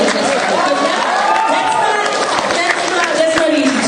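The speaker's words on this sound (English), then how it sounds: "let's get a little bit of applause for the cosplay" Audience applause for a cosplayer at an anime convention karaoke event, a steady wash of hand clapping mixed with crowd chatter, continuous and moderately loud throughout.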